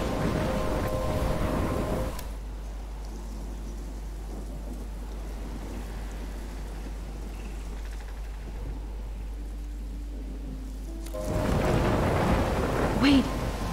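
Rain and thunder from a storm in the video game Life is Strange, loud rumbling at the start and end with a quieter stretch of steady rain between.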